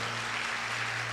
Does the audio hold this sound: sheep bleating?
no